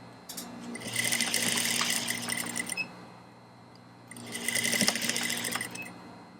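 An industrial sewing machine stitches a corset in two steady runs of close, even whirring, pausing briefly in between.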